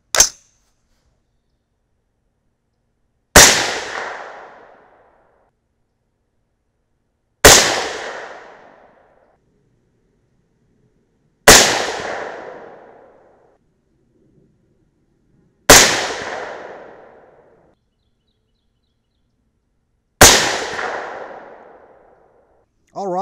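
.308 Winchester rifle firing 165-grain Sierra bullets loaded over 42.0 grains of powder, six sharp loud reports spaced about four seconds apart, each with a short decaying tail, no talk between shots.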